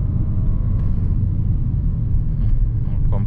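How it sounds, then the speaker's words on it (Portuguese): A Peugeot 2008 GT compact SUV on the move, with a steady, loud low road rumble and engine drone heard from the cabin throughout. "Mesmo ele fazendo barulho, dá pra ver que ele não sai do curso."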